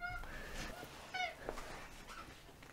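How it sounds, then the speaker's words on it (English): A house cat meows a few times nearby, short tonal calls rising over faint room noise, with quiet scattered rustling between. "I've got a cat that wants to say hello."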